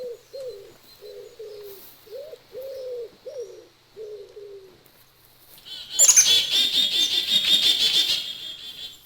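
Birds in the video game The Hunter: Call of the Wild, a dove cooing in a steady repeated rhythm, then a loud close burst of wing flapping and shrill chirping calls.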